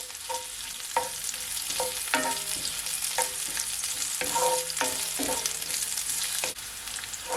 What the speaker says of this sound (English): So now I'm gonna add my onion first. I'm just gonna allow it to saute for at least 20 seconds